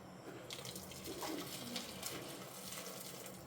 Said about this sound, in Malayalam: ഇനി കുറച്ച് ചൂടുവെള്ളം ഒഴിക്കുകയാണ്.